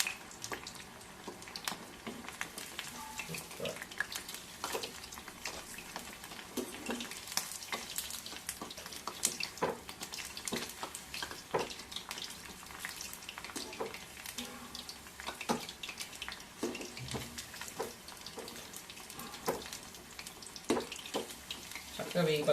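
Cauliflower pakoda crackling and bubbling in hot oil on medium flame, a steady busy sizzle with sharp pops throughout and a voice talking now and then over it.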